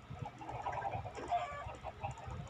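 Minecraft chickens cluck softly and repeatedly on a chicken farm, faint and low in level with a murmuring background, no talk over them.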